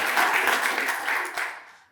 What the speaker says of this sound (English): give a big round of applause for our volunteers